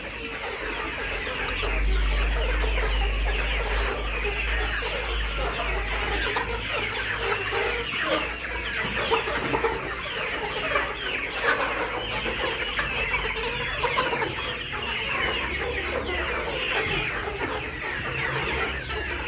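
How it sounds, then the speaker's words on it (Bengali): Nourish layer hens cluck in a poultry shed, a dense chorus of overlapping clucks and murmurs from many birds, near and continuous, with a low hum running underneath and no talk. "দেখতে পাচ্ছেন সবগুলো মুরগি সুস্থ সবল"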